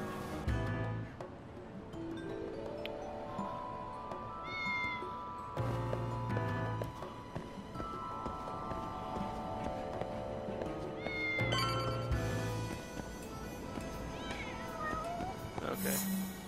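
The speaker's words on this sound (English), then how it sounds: "Oh, all the cats are yelling." Cats in the game Lost Judgment yowl and meow repeatedly over a busy layered soundtrack, their drawn-out cries rising and falling amid music and ambient noise.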